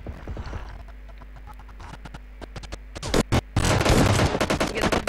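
Rapid automatic gunfire from a shooting video game: quieter scattered shots first, then loud dense bursts of fire crowding the final two seconds.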